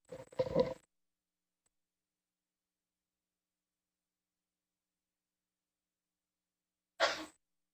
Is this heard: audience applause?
no